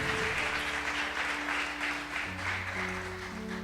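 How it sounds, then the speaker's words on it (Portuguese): Church congregation clapping loudly in worship, a dense steady wash of applause that continues alone throughout with sustained musical tones underneath. "Fica de pé e dá uma salva de palma bem forte para Jesus"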